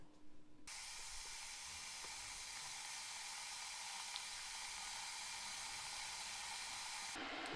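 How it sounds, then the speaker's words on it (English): An electric kettle brings water to the boil, a loud, steady broadband hiss and rush that starts abruptly, holds evenly for several seconds and cuts off sharply near the end. "That's the kettle boiling for the second time,"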